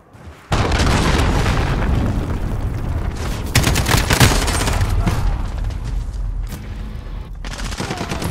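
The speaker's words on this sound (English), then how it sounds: "Enemy cruise missile incoming." An incoming enemy cruise missile strike in the video game Call of Duty: Modern Warfare: a sudden heavy boom is followed by continuous loud rumbling blasts and gunfire-like crackle for several seconds.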